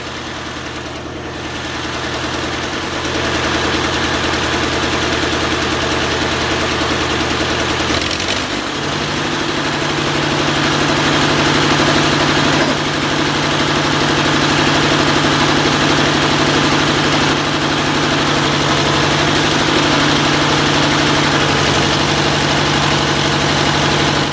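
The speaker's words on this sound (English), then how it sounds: "And that's how you crank it with the hand crank." A 1950 Farmall Cub tractor engine idles steadily after being started with a hand crank, loud and close with a continuous rumble and a shift in tone early on.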